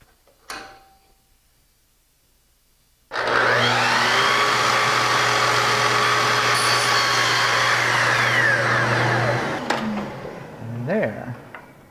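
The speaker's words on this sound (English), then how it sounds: "I'm going to swing the saw to 15 degrees in this direction so that I can cut an outside corner miter on this piece" A miter saw, swung to a 15-degree angle, spins up with a loud steady whine and cuts through a piece of wooden molding for about six seconds, then winds down. A voice speaks briefly just before it starts.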